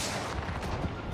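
Rapid gunfire from Apex Legends fills the moment as a loud, dense burst of sustained shots with no letup, one slightly sharper crack near the end.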